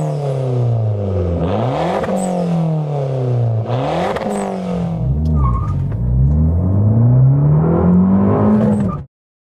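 An Abarth 595 with a 1.4 T-Jet engine and Garrett turbocharger revs up and down several times, loud and close, with rising and falling whine and rumble before cutting off abruptly.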